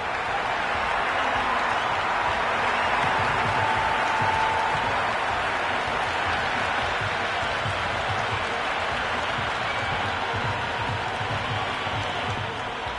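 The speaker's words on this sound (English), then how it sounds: "That's a hat-trick and the crowd are going wild." A dense cricket crowd roars and applauds after a bowler's hat-trick wicket in a Quetta Gladiators match, a steady wall of cheering that holds for the whole stretch without letup.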